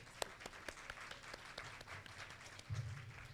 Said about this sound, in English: So I would like a big round of applause for Güney.